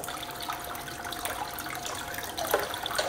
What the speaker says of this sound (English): You can turn on a little bit more water.